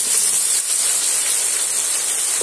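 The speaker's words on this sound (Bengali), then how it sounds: "কেটে রাখা বেগুনগুলো এবার আমি তেলের মধ্যে দিয়ে দিলাম।" Pieces of cut eggplant hit hot turmeric-seasoned oil for a rui fish and eggplant dish, giving a loud, steady, close sizzle that stays constant throughout with no talking.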